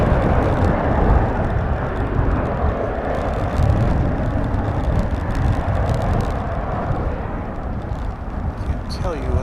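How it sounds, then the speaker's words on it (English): An American Airlines Boeing Dreamliner arriving from Cancun at DFW airport, a steady broad roar of jet engines filling the scene, loud and sustained throughout with a faint rising whine near the end. "That was a Dreamliner coming in from Cancun, American Airlines Dreamliner."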